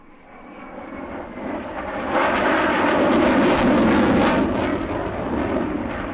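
A Ukrainian Air Force Su-27 Flanker jet flies an airshow display at Gdynia AeroBaltic 2019, its engine roar swelling as it nears and staying loud and close in a sustained rushing blast.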